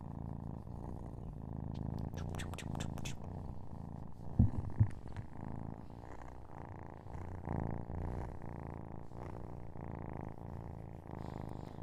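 A kitten purrs steadily and close, a low rhythmic rumble pulsing with each breath, with a few brief small bumps partway through.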